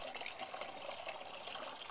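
Aquarium canister filter and its hoses flushing dirty water, a steady broadband rush and gush of liquid with no pauses, fairly quiet and close, with no voices.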